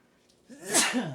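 A single close sneeze bursts out after a moment of quiet, sharp and breathy with a voiced tail.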